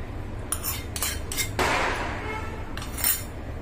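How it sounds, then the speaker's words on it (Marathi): Fried thin poha and peanuts for chivda are tipped into a kadhai: sharp metallic clinks and scrapes, then a brief rustling pour, then another clatter of a utensil against the pan, with no speech. "ते आता आपण कढईला असं हे करून घालून घेऊया यामध्ये"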